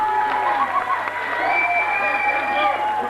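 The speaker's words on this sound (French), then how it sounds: "Applaudissez-le tout de même" A live television studio audience claps and cheers for an elderly professor invited onto the stage, a steady wash of applause with scattered shouts.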